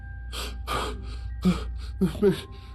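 Several sharp, breathy gasps in quick succession, close and fairly loud, with short pauses between the panting breaths.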